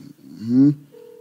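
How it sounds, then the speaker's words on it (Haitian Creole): A telephone sounds with a steady electronic ringing tone that starts abruptly after a brief low vocal sound and holds evenly at moderate loudness. "téléphone Maître Georges qui a sonné"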